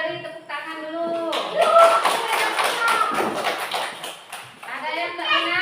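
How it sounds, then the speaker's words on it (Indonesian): Classroom of children clapping hands together for classmates who got all answers correct, a burst of applause mixed with young voices talking. "Kita beri tepuk tangan dulu."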